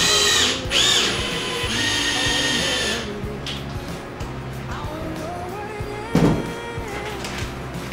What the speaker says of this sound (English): So we're going to screw two more screws in here and we're gonna leave them raised a little bit.